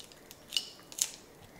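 Two short, sharp crunching cuts into juice ingredients, heard close in a quiet kitchen with a soft pause between them.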